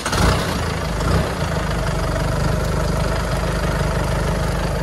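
A Cummins diesel engine in a Ford F250 crew-cab 4x4 pickup idles steadily up close, a deep rumbling chug with constant vibration and no talk.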